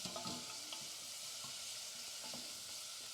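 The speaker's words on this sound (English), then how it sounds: "I'm going to add about 20-30 ml of a good olive oil. And I'm going to lightly cook until the peas thaw out" Peas and leeks cook in 20-30 ml of olive oil, giving a steady close sizzle with faint stirring clicks and scrapes throughout and no voices.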